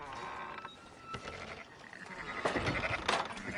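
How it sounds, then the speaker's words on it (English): Sheep in the video game Red Dead Redemption 2 bleat in a few short, wavering calls over a faint outdoor ambience, quiet and somewhat distant. "Fine sheep."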